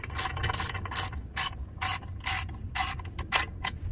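A hand ratchet tightening bolts on Metalcloak rear differential armor: rapid rhythmic clicking in repeated short strokes, close and distinct over a low background hum.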